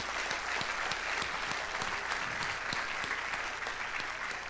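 Steady audience applause fills a college debate hall at North Dakota State University, a dense, even wash of clapping lasting several seconds with no voices over it.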